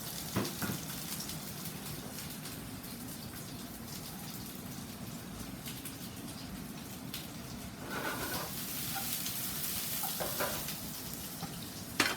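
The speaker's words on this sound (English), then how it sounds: "So he's going to saute down the vegetables a bit." Onions, peppers, carrots and tomatoes sautéing in a pan for a Cod a la Vizcaina sauce, a steady close sizzle with occasional stirring scrapes and brief louder bursts of crackle, no voices.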